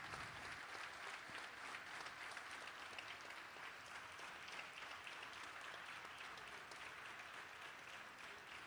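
Sustained audience applause for a percussion duet concert at a wedding celebration event, a dense, steady wash of clapping from many hands held at an even level throughout.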